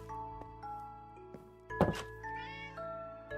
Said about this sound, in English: I heard a cat.